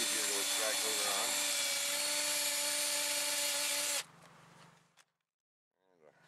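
Wire brush scrubbing rust off a stud on a 2009 Toyota Tacoma 4WD front suspension, a loud, close, continuous harsh scratching for about four seconds that then stops abruptly, leaving quiet.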